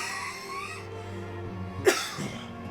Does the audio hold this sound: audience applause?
no